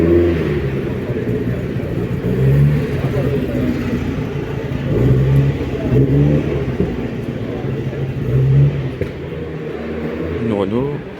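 A Renault rally car passes at the Rallye Monte-Carlo Historique, its engine rumbling and revving close by among other cars. Spectators' voices carry on throughout.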